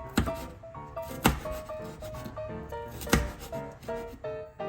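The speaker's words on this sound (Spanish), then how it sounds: "lo cortamos en tiritas y procedemos a picarlo en cuadritos" A knife chops red bell pepper into small cubes on a board, giving a series of sharp, irregular close taps, with faint tonal background music running underneath.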